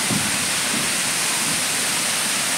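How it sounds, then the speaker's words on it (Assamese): Kakochang waterfall roars as a dense, loud, unbroken rush of falling water close by, with no talking over it. "কাকচাং ৱাটাৰফল"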